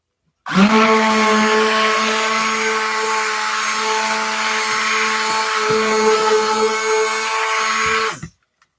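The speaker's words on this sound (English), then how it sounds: "And go ahead and stick blend." A stick blender whirs steadily through cold process soap batter for about eight seconds, a loud continuous motor drone with strong harmonic tones, starting and stopping abruptly.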